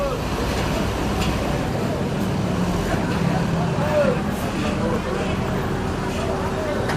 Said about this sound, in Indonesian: Ini datang mobilnya satu lagi nih.